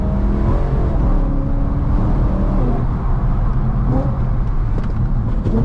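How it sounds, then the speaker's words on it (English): Engine of a modified 2010 BMW E92 M3 driving on an icy road, a close steady drone with small shifts in pitch and throttle, unbroken and loud. "what a beautiful sounding car"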